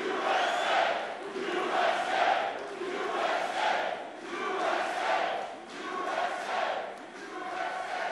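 A crowd of supporters at a political rally chanting "USA" in loud rhythmic waves, the chant rising and falling repeatedly over several seconds with no pauses.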